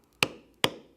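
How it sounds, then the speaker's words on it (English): A mallet strikes a steep beveler twice on a tooled leather pattern, two sharp, close, evenly spaced knocks with a short ringing decay after each. "I will use several of the steep bevelers to bevel the pattern"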